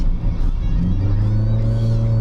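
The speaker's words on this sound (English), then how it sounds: "The chop and the lope that the car has now, I can hear it in here, but outside it just sounds so great." A Corvette V8 fitted with a stage 2 cam idles with a loud, choppy, uneven lope, heard up close from inside the car as a deep rhythmic rumble.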